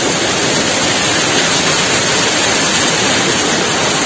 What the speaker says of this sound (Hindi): देखो जैसे मेरे पीछे ये एक और झरना है।